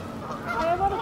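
Geese honk in a park, with a couple of loud, nasal calls close by over open outdoor ambience and a faint voice in the background.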